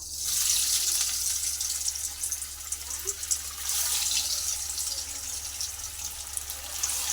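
Banana flower chops (mochar chop) sizzle and crackle as they fry in hot oil, a steady broadband hiss that holds throughout at close range with no talking.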